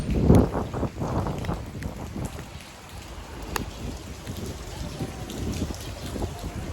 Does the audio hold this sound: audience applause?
no